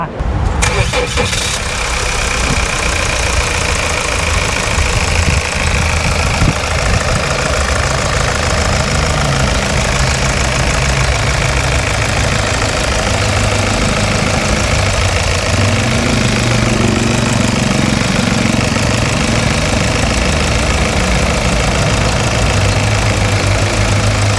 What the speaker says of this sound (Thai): เดี๋ยวฟังเสียงเครื่องยนต์กันดีกว่า